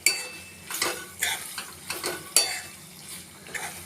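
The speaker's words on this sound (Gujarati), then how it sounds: "હવે આપણે તેને બધું એકસાથે હલાવી લેશું" Macaroni pasta being stirred together in a pan for an Indian-style veg dish, giving a run of soft scraping and clinking spoon strokes at a steady, uneven rhythm, close and moderately loud with no talking.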